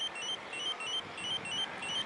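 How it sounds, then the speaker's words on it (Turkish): A quiet electronic beeping from a Spy 5000M motorcycle alarm remote pulses in a steady, rapid rhythm, faint and thin, warning that the alarm is not armed. "Şimdi kumandadan bizi uyarıyor."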